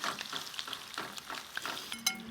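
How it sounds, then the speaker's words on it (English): Potato pancake mixture is pressed into a hot skillet with butter and onions, giving soft sizzling and frying with scraping stirs and pats, quiet and close, with no talk. "Now we're ready to literally load it into the pan."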